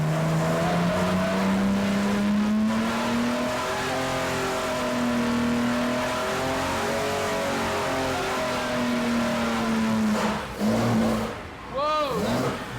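A powerful Jaguar XKSS sports car engine revs hard and sustains a rising, roaring note, then drops off and fires again with sharp bursts near the end.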